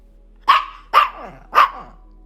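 A dog barks three times in an even rhythm, each bark loud, close and sharp with a short tail, separated by quiet gaps.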